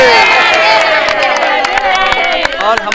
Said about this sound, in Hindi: प्रेम से ताली बजाओ